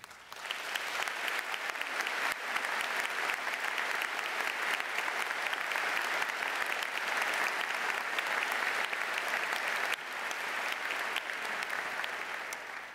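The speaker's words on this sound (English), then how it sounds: "I hope you will join me in a round of applause saluting that" An audience at a Daughters of the American Revolution Continental Congress gives sustained applause, a full and even roar of many hands clapping that continues for several seconds with a brief dip near the end, no speech over it.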